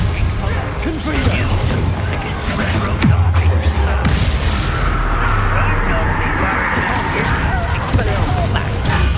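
Fiery Confringo spell blasts in the video game Hogwarts Legacy burst out among clashing combat effects, several booming thumps scattered over a dense, noisy battle soundscape, with spoken spell incantations and voices throughout.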